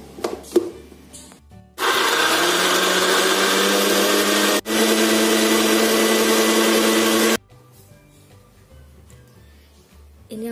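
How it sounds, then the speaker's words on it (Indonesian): A kitchen blender whirs loudly and steadily for about six seconds, with a brief stop in the middle, as it purées the spice paste for a spicy-sweet crispy potato dish; quieter clatter comes before and after. "kita blender"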